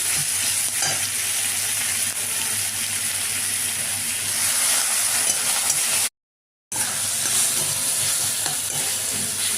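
Tomato with salt sautés in a hot pan for a fish-head moong dal. A continuous hissing sizzle with faint stirring holds steady, cutting out to silence for a moment before resuming.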